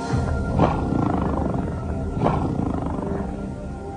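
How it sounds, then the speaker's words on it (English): A 500-pound tiger roars twice during a stage magic illusion, each deep, loud bellow rising over a continuous low growling rumble that fills the whole stretch. "our assistant has been turned into a 500-pound tiger"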